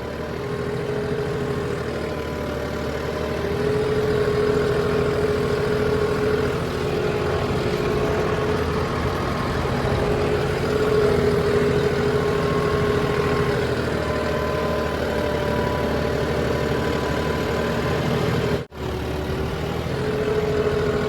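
A modified tractor's engine runs in a steady, loud low drone for about twenty seconds, with one brief dropout near the end and no voices over it.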